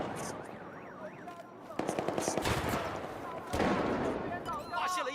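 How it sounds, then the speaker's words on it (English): Gunfire in Battlefield 4 with a shotgun in the mix: loud repeated bursts and sharp shots over a busy game soundscape, with several heavy blasts close by. "You were shooting through a concrete wall with a shotgun?"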